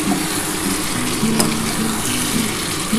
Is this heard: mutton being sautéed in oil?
yes